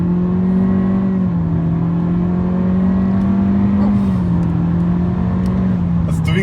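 A Honda Civic RS 1.5 engine in sport mode hums loudly at a steady pitch with slight rises and dips, close by; a voice talks briefly underneath.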